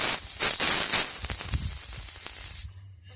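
A loud, steady hiss of compressed air blasts into the carburetor ports of a Yard Machines lawnmower for about two and a half seconds, then cuts off sharply into quiet.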